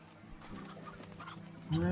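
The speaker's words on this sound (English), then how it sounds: "let's grab some of my stony hens" Stony hen chickens in the video game Slime Rancher cluck briefly over soft game ambience, with a louder burst near the end.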